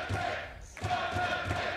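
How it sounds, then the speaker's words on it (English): A lively esports arena crowd at a 2019 League of Legends match between Fnatic and Origen cheers and roars steadily, with rhythmic swells of chanting under a constant wash of noise. "Crowd alive for Fnatic"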